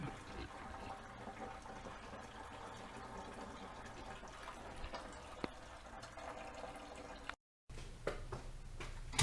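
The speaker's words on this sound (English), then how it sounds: "I'm draining out all the coolant" Engine coolant from a 1992 Toyota Hilux drains into a clean bucket as a steady, close liquid trickle and splash, briefly cut out near the end before the flow resumes.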